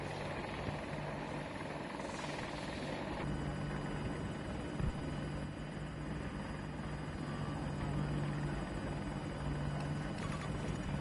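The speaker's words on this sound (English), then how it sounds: "No, it's attack helicopter over Alpha 2 area." Attack helicopter in Battlefield 2042, a steady rotor thrum and engine drone holding throughout at moderate level, with no talking over it.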